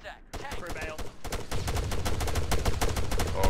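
Gunfire in the video game Arma 3 during an Escape Altis match, a few sharp shots at first, then dense rapid automatic bursts building to a loud, continuous fusillade.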